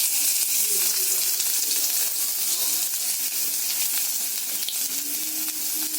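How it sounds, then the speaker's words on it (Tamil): Onion, curry leaves and green chilies sizzle in hot oil in a pan after mustard seeds have popped, a steady close frying hiss with faint stirring, no one talking. "ஸோ வெங்காயம் போட்டாச்சு, கருவேப்பிலை, பச்சை மிளகாய் போட்டாச்சு"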